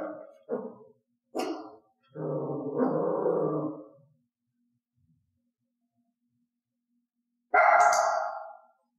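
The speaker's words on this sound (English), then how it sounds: "Elaine's offered bark ranged from a low growl to a quiet bark to a loud piercing bark" A trained dog named Elaine barks loudly and piercingly in several short bursts followed by a longer sustained bark, then a pause and one more strong bark near the end, close and clear with no talking.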